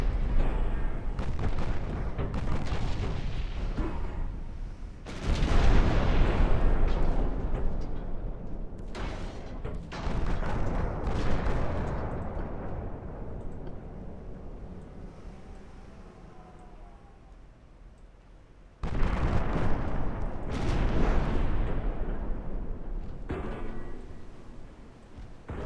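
Naval guns fire in the Ultimate Admiral Dreadnoughts video game, heavy booming salvos hitting at intervals over a continuous low rumble, with loud bursts near the start and again later.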